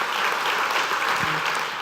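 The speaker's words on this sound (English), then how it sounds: "big applause for Nicolas Negroponte" A packed event audience at a lab gathering breaks into loud, continuous applause, a dense even roar of clapping heard close and alone.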